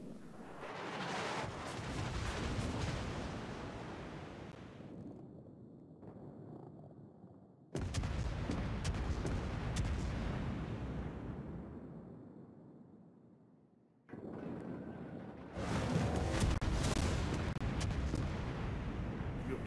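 Naval gunfire from warships in World of Warships, a Varyag cruiser match: three loud booming salvos, each a sharp blast trailing into a long rumbling decay, separated by brief lulls, with no talking.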